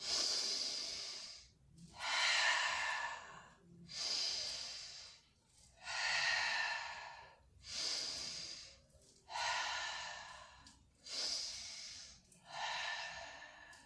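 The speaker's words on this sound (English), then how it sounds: "Try to make noise when you breathe in and out." Children in a yoga class breathe in and out noisily in a slow, even rhythm, about seven loud airy breaths in turn, each rising and fading with short pauses between.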